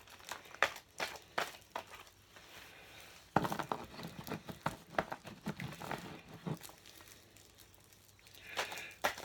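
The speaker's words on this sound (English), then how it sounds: "I'm just going to shuffle these a little bit." A deck of astrology cards is shuffled by hand, making close, soft papery riffles, slaps and crinkles in irregular bursts with brief pauses between them.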